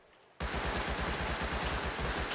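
Rapid automatic fire from a Thompson submachine gun in the Rust survival game, a sustained close burst of evenly spaced shots that starts abruptly after a brief quiet moment and continues loud to the end.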